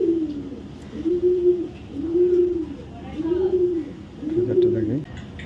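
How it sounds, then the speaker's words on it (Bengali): Racer pigeons coo up close, five soft, rounded coos in an even, repeating rhythm over quiet background noise. "টপ কোয়ালিটির কবুতর"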